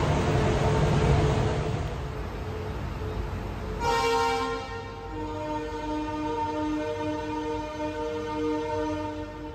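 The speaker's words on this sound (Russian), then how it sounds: "но поезд очень быстро набирает скорость." A local passenger train running from Goa to Mumbai rolls along and gathers speed, with a steady rumble of wheels giving way to sustained tonal horn-like whining from the carriages, loud and close throughout without speech.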